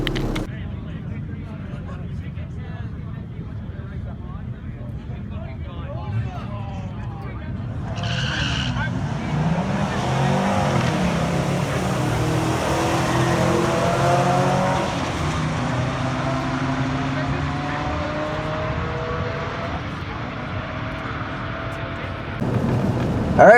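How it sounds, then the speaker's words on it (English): An LS-swapped Mazda B2200 pickup doing a drag-strip burnout and launch, its V8 roaring loud and steady with tire squeal and rising engine pitch through the run, close and dominant throughout. "I did a little bit better of a burnout, and I really just babied it off the line"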